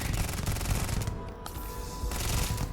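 Rapid sustained minigun fire in the sci-fi shooter Starfield, a dense loud stream of shots rattling almost continuously with a short dip midway before resuming at full intensity.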